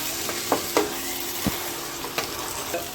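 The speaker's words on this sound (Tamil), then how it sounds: "இது நல்லா 2 மினிட்ஸ் வந்து இது நல்லா ஃப்ரை பண்ணிக்கோங்க." Mint chicken chops sizzling in a pan, a steady frying hiss with a few sharp stirring scrapes and clinks standing out nearby, no voices.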